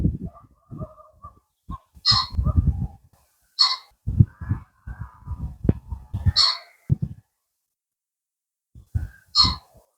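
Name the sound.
pheasant calling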